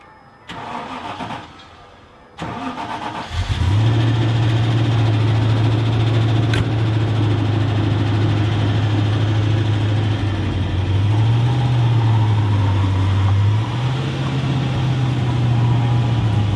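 A Land Rover engine cranks briefly, stalls, cranks again and catches, then settles into a loud, steady idle nearby with a slight rise and fall in revs, no voices.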